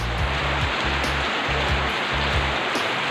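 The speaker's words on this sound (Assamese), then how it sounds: "একদম দপাল পিটা বৰষুণ, প্ৰায় 2 ঘণ্টামান বৰষুণ আহিয়ে আছে।" Heavy monsoon rain pours down continuously during house construction work, a dense, loud roar of water with low rumbling bursts underneath and no voices.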